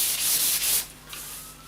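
Sandpaper rubbing lacquer off a snooker cue shaft, a steady close scratchy sanding hiss for most of the stretch that eases off into quieter, lighter strokes near the end.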